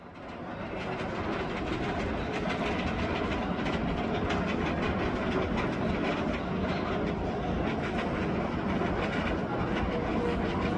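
Anti-rollback dogs clacking on the lift hill of the Valravn roller coaster: a continuous rapid mechanical clatter with a rumbling undertone, steady and loud throughout with no voices.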